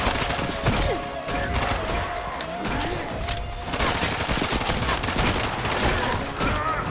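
Semi-automatic gunfire in the video game Bright Memory, a dense run of sharp shots and impacts over constant game noise and effects, loud and close throughout.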